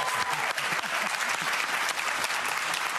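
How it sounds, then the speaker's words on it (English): A studio audience on the Australian quiz show Pointless breaks into sustained applause, loud, dense clapping that holds steady throughout without talk. "Round of applause for Dylan."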